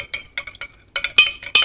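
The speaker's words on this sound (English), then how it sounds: "So first I'm gonna give this a little stir." A spoon stirs a rum-based piña colada cocktail, giving rapid, close metallic clinks against glass in an uneven rhythm of about a dozen quick taps, with no voices.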